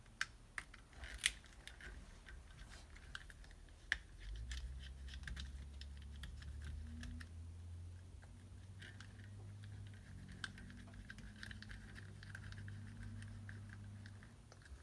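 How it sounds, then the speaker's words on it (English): Small screws are worked loose with a Phillips screwdriver on the cover of a 1/18 scale RC buggy, giving faint scattered ticks and scrapes close up over a steady low hum, with no talking. "And then we're going to unscrew the cover."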